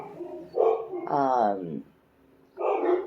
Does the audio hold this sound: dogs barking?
yes